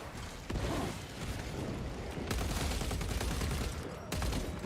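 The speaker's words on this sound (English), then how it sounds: "That's a good, well-placed grenade." A frag grenade goes off in Space Marine 2 amid heavy combat, with sharp bursts and booms layered over a continuous din of gunfire, loud and close.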